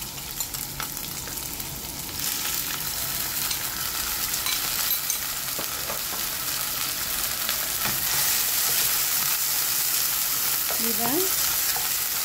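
Marinated squid, browned garlic and sauce fry together in a hot pan with a loud, steady, close sizzle that thickens partway through, and a voice briefly speaks over it.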